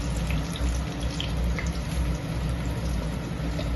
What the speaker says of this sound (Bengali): এইবার আমি এখন তেলের মধ্যে ছেড়ে দিচ্ছি।